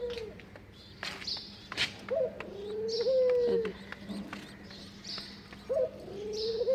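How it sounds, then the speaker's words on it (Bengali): Doves coo on a cold winter morning in clear, repeated rising and falling calls, fairly close and distinct, with brief higher chirps from other birds and quiet ambient noise between phrases. "ওই যে আমার ঘুঘুগুলি ডাকতেছে"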